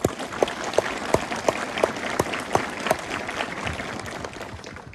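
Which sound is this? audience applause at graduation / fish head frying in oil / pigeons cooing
audience applause at graduation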